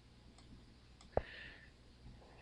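A single sharp mouse click, close and fairly quiet, with a couple of fainter ticks before it against a near-silent room, during work in CorelDraw.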